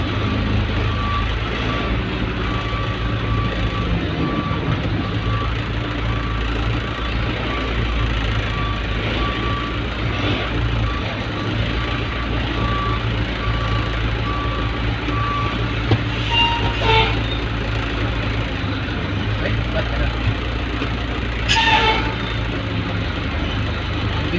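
Truck reversing at a storage unit site, its backup beeper sounding in a steady repeating pulse over a continuous low engine rumble, with a few brief knocks near the end.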